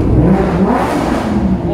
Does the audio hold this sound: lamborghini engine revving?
yes